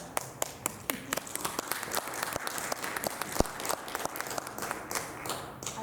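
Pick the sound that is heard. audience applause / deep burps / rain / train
audience applause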